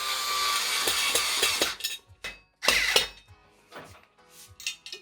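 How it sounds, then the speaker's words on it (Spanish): A screwdriver drives screws into an IKEA EKET shelf, with close ratcheting clicks and metallic clinks in short bursts, starting over a hissy background and then quieter, with small gaps between the turns. "Ahora con un destornillador manual o un atornillador eléctrico"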